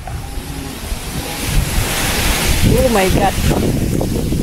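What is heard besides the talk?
wind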